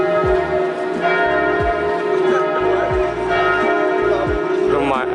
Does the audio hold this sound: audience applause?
no